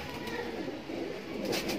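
Kaldume pigeons at a pigeon loft give soft, low cooing against a steady wash of background noise, faint and continuous with no clear pauses.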